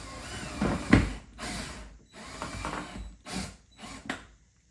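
A heavy-duty metal pegboard organizer is screwed into place with a power driver, sounding as several short whirring bursts separated by brief pauses, close and clear, with no talk.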